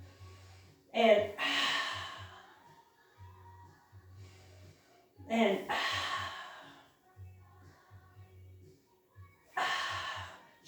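Strong, audible breaths during a Pilates exercise, three long breathy exhales spaced a few seconds apart, close and fairly loud, with quieter breathing in between.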